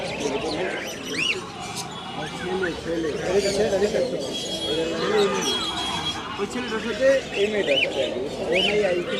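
Caged birds, including doves and pigeons, coo and chirp at the Mirpur 1 bird market, a steady busy chatter of calls mixed with nearby people talking throughout.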